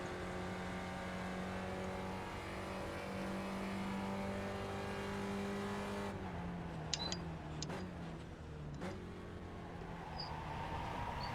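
A Spec Racer Ford race car engine in the iRacing simulator drones steadily at high revs, then drops in pitch and sputters as the car spins out at Sebring, with a few sharp ticks near the end.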